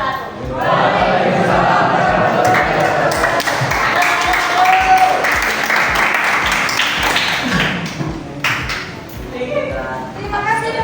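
A classroom audience claps after a student group's presentation, steady loud applause running throughout with talk over it.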